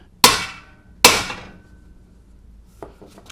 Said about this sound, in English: take a big 6-pound hammer and just hit really hard